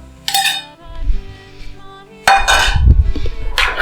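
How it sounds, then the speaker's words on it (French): Peas and broad beans tipped into a pan and stirred for a risotto, giving loud close clattering and scraping in two bursts with a short pause between them. "les petits pois, je les verse avec les fèves"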